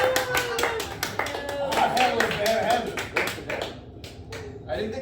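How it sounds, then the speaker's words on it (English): A studio audience breaks into brief applause during a talk show, scattered clapping mixed with laughter and talking, fading out toward the end. "I didn't think the bones thing would get an applause break."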